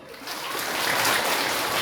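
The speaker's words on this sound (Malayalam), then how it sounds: "ഒന്നുകൂടെ കൈയടിക്ക്." An audience claps together on request, a dense continuous wash of applause filling the room, steady and fairly loud for its whole length.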